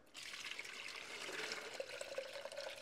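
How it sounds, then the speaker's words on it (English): A borax and water solution pours into a container in a steady, soft splashing stream, faint and close, the pitch rising slightly as the container fills. "So now I'm just going to fill this container up."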